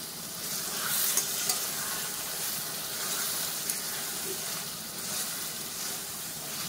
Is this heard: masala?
yes